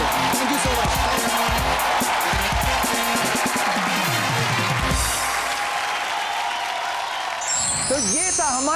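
A studio audience at a Hindi stand-up comedy show applauds and cheers loudly and continuously, with a voice talking over the crowd and music-like tones near the end.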